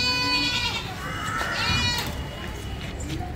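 Hyderabadi and Sojat goats bleat on a goat farm, a couple of close, wavering calls over a low background, with people talking nearby.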